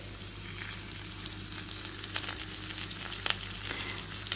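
Red fish frying in oil in a pan, with leftover onion from an earlier batch, gives a steady close sizzle throughout, with faint crackles and small pops and no talking.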